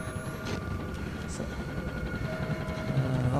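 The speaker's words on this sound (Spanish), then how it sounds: "Qué poco me gusta el sonido este del helicóptero" A low, steady helicopter rotor and engine drone in the horror game Outlast Whistleblower, rumbling continuously beneath someone talking quietly over it.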